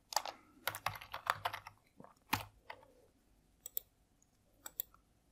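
Rapid typing on a computer keyboard while a UPI ID is entered for a payment, with crisp clustered keystrokes in quick bursts, then sparser single clicks toward the end, close and alone without talk.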